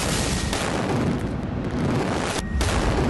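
An RPG strike on a building in Gaza, heard as a loud, sustained roar of blast and rumble filling the whole clip, with a brief dip partway through.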